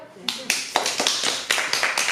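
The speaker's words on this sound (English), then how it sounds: "I clap for myself." One person at a directors' technical workshop claps for themselves, about eight crisp, close hand claps in an uneven rhythm over two seconds.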